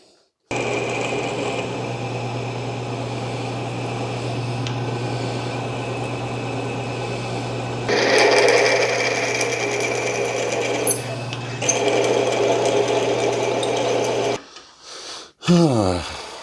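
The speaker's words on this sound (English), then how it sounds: "I'm just going to drill and ream it for a" A drill on an Atlas metal lathe bores and reams a 3/8 inch hole in a custom cross slide, giving a steady motor whine with a low hum that grows rougher partway through, then a few clunks as it stops.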